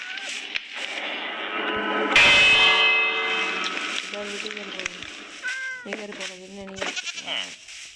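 A goat bleats in the Minecraft video game, giving several short, wavering cries near the end while a person talks over the game sounds.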